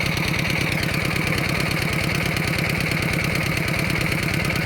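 A small engine idles steadily nearby during a rural Thai fishing trip, its fast, even chugging pulse running unbroken and fairly loud with no one talking.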